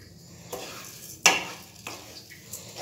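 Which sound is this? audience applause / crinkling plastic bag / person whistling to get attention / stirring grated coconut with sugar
stirring grated coconut with sugar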